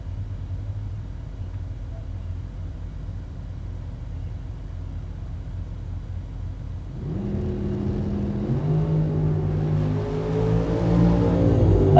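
Drag racing cars, one of them a Ford Falcon, race down a bracket-racing track. A low engine rumble starts distant, then swells midway into louder rising revs and roaring acceleration that builds to the end.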